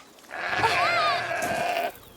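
A goat in the video game A Plague Tale: Requiem lets out one long, wavering bleat lasting about a second and a half, close and clear with no talk over it.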